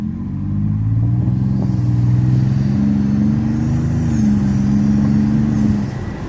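Toyota Sequoia TRD Pro engine in 4 high on a washboard dirt road: a steady, loud low rumble and drone that holds with slight rises in pitch, alone without talk.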